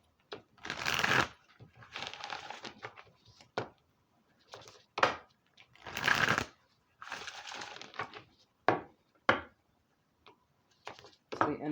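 A deck of mermaid oracle cards is shuffled in repeated riffling bursts with short pauses between, close and fairly loud.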